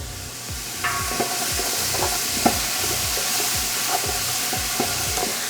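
Vegetables for a slow-cooked marinara sizzle steadily in a pan over a low-to-medium gas flame, with a continuous frying hiss broken by regular scraping stirs and a few light utensil clinks.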